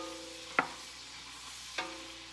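Vegetables cooking in a pan still coated with sausage drippings, a soft steady sizzle with two crisp utensil taps against the pan, quiet and close with no talking.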